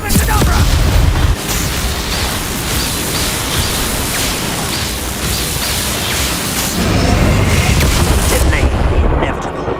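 A Bombarda spell explosion rumbles and bursts in the video game Hogwarts Legacy, loud and broadband with a heavy boom at the start and again later, mixed with game sounds and a voice.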